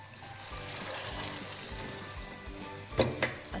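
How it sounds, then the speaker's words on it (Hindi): Mutton bones tossed in masala over a high flame, a steady low sizzle with faint liquid bubbling throughout, ending in a couple of sharper clinks near the end; no talking. "अब हम मसाले के साथ इन हड्डियों को भूनेंगे 1 मिनट"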